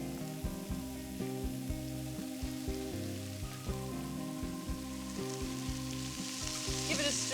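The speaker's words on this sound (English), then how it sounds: "So when the onions are soft and the bacon is cooked, you can add the cabbage." Cabbage goes into a hot pan with softened onions and cooked bacon, giving a steady, close frying sizzle that runs unbroken throughout, with some stirring noise on top.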